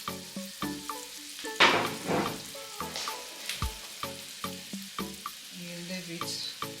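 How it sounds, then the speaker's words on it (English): Cassava dough sizzles and crackles as it fries in moderately hot oil, with intermittent sharp clinks and stirring sounds recurring at an uneven pace. "My oil is okay for the frying. You don't need the oil to be too hot."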